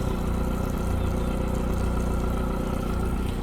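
A 2005 Bayliner Trophy 1902WA boat engine runs steadily, a close, even mechanical drone with a low throbbing pulse and no clear change in pitch, heard alone for a few seconds.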